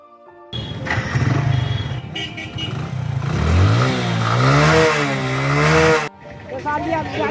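A motorcycle engine, just fitted with a new spark plug, starts and revs up and down in rising and falling sweeps for several seconds, loud and close, then cuts off abruptly, with voices talking around it.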